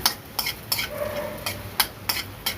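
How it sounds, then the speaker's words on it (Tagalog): Onions sauté in a pan for a corned beef dish, with a soft sizzle underneath and sharp repeated clinks and scrapes of a utensil against the pan, close by. "gigisa ko na yung sibuyas"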